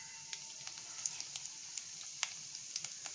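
Mustard seeds and cumin hit hot oil in a kadai, giving a faint steady sizzle broken by scattered sharp pops and crackles as the seeds burst.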